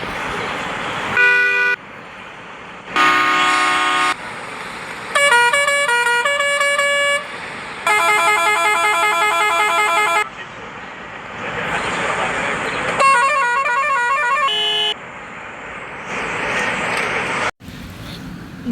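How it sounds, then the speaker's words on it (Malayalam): A series of different car horns in a video game sound one after another, each a loud tonal honk or musical melody lasting a second or two, separated by brief gaps of quieter game background. "ഇപ്പൊരു ഹോൺ ഞാനൊന്ന് കേൾക്കട്ടെ ഗൈസ്"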